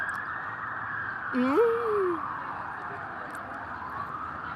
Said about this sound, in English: It is the ambulance, guys.